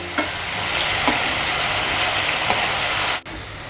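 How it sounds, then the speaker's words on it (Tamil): Prawns sizzle steadily in hot oil in a pan, a dense continuous frying hiss with a few soft clacks as pieces are turned over, then a sudden brief dip near the end. "இப்போ திருப்பி போட்டு மறுபகுதியை ஃப்ரை பண்ணுறேன்."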